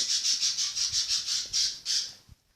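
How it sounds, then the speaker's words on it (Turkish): Birds chirp in a rapid, steady run of bright, high squawking calls, about a dozen in a row, close and loud, before cutting off abruptly. "Ötüyor kuşlar. Ne oldu kuşlar?"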